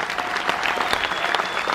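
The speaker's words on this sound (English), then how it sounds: "How about a big round of applause for everyone out there as well then?" Steady applause from a crowd gathered for a military appreciation event aboard the Carnival Mardi Gras cruise ship, dense, even clapping that stays loud and continuous throughout without a break.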